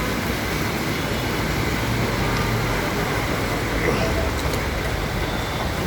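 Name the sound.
cars driving through a flooded city street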